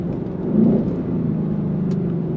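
A 2024 Ford Mustang GT Performance Pack with the standard exhaust setup, a steady low engine and exhaust drone heard from inside while cornering into a left-hand bend, swelling slightly then holding even.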